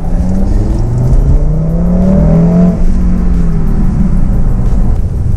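Audi RS3 with a 400 hp engine launching hard from a standstill, a loud, continuous engine roar with rising harmonic sweeps as it pulls through the gears, close and steady throughout with no talking.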